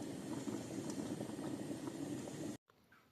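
Armenian cabbage-leaf dolma bubbles in a pot on the stove with a steady, low, dense boiling burble that lasts a few seconds and then cuts off abruptly, leaving a faint quiet background.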